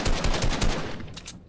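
A rapid burst of gunfire from a Fortnite 1v1 fight, several quick automatic shots in a tight rhythm, loud and close, followed by a couple of fainter shots trailing off.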